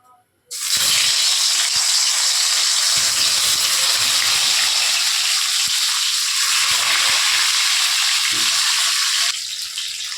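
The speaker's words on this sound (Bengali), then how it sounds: "তেল গরম হয়ে গেছে, এখন আমি মাছগুলো ভেজে নেব।" Fish pieces dropped into hot mustard oil in a kadai burst into a loud, dense sizzle that starts abruptly and holds steady for several seconds, easing slightly near the end.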